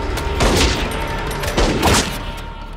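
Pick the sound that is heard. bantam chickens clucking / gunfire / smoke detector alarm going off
gunfire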